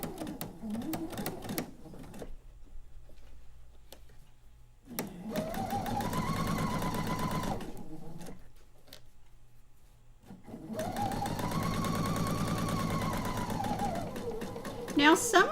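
A sewing machine stitches quilt pieces in two long, steady whirring runs. Short stops separate the runs, and there is handling noise between them. A voice speaks at the start.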